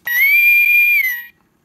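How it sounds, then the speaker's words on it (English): A Star Trek USS Enterprise NCC-1701 door chime toy plays its hail whistle, a loud, steady electronic whistle lasting about a second with a slight upward bend at the start before cutting off cleanly. "and the hail whistle, which is pretty cool."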